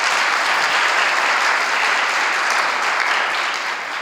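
A church congregation claps during a Catholic Mass on the fourth Sunday of Lent, loud, dense and continuous, fading slightly at the very end.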